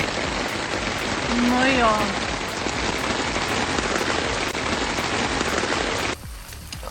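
Rain falls steadily on a tent during a windy storm, making a dense close patter. A voice speaks briefly over it, and the patter eases slightly near the end.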